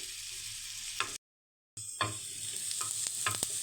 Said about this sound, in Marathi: तव्यामध्ये एक चमचा तेल मी टाकून घेतलेलं आहे याच्यामध्ये कांदा टाकून घेऊयात